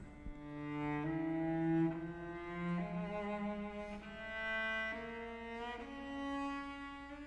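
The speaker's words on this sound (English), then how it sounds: "the gypsy scale takes that scale and raises the 4th and the 7th degrees" A gypsy scale, a minor scale with raised fourth and seventh degrees, played on a sustained, pitched instrument in distinct ascending steps, heard close and alone without talking.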